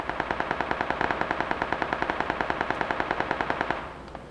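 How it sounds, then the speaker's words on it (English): Rapid automatic gunfire in the video game PUBG, a long unbroken burst of evenly spaced loud shots lasting nearly four seconds before cutting off, with no talk over it. "Oh, shit, someone's shooting at me."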